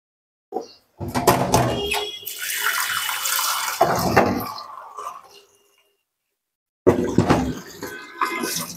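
Kitchen tap water running to soak chicken, a loud close gush for several seconds that stops, then starts again after a short pause.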